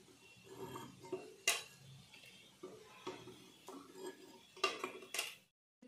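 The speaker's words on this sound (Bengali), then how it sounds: "চিকেনের চপ আমার ভাজা হয়ে গেছে, এবার আমি তুলে নিচ্ছি।" Fried chicken chops are lifted out of a frying pan with a metal utensil, giving close clinks and scrapes against the pan over a soft background sizzle, with no talking.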